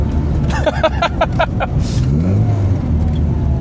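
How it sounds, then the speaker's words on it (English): A car engine fitted with SU carburettors revs and accelerates, a short burst of pulsing voice-like sound early on giving way to a rising engine note that climbs steadily through the second half. "That accelerates better than it did with the Dellorto on it."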